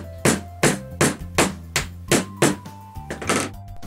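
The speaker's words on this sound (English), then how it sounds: "Again, you can use the hammer." A small hammer taps a bead onto the axle of a toy balloon car. Nine or ten crisp, evenly spaced knocks ring out close and loud, with quiet gaps between them.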